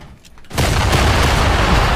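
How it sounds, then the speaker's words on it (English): A C4 charge explodes in Fortnite, and a sudden loud boom turns into a dense, sustained roar of noise that lasts until the end. No one speaks. "I just contained the explosion too."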